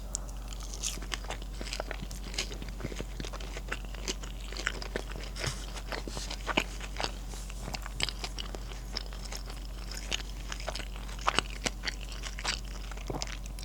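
Close, crisp crunching and biting on a barbecue chicken wing from Wingstop, with repeated soft chewing and occasional louder crackly bites spread through a quiet room, no talking.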